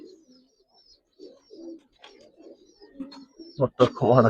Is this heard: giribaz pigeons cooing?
yes